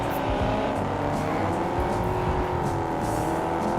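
Ford Mustang V8 engine in the racing game Test Drive Unlimited Solar Crown, a loud, steady high-revving roar held throughout with faint tire squeal, no talk.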